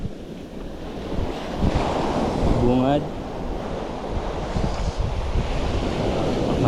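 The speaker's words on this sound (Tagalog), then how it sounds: "Katuhod lang yung alon dito" Knee-deep ocean waves wash onto a shore in a steady roar with gusty wind buffeting the microphone, and a voice speaks briefly over the surf.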